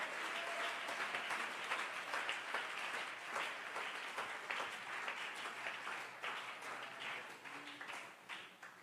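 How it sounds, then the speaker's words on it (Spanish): Applause ripples through a church congregation after a preacher's exclamation on doctrine, a steady wash of many hands clapping, fairly distant and soft, lasting several seconds. "¡Hay aplausos, hay aplausos, hay aplausos!"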